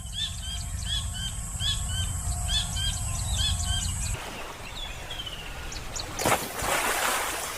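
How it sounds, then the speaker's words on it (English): Kingfisher calling with rapid, high repeated chirps over a low rumbling background, then a washy burst of noise and scattered faint calls. "kingfisher"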